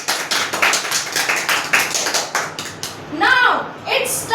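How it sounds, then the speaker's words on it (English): An audience at a seminar claps for the participants, a steady run of hand claps through the first few seconds before a voice cuts in over the tail. "give a big clap for our participants"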